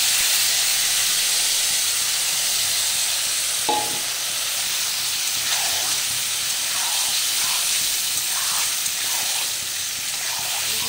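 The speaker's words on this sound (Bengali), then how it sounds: "তারপর আমার এই সোয়াবিনটা এর মধ্যে ঢেলে নিতে হবে।" Soybean chunks hit hot oil in a wok and set off a loud, steady sizzle and hiss that lasts throughout, with a brief clink near the start and faint stirring scrapes.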